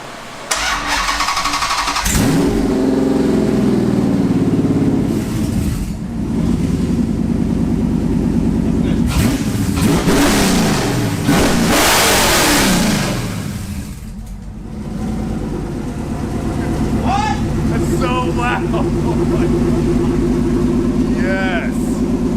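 A loud straight-piped car engine starts and revs repeatedly, roaring up and dropping back, with people talking over it near the end.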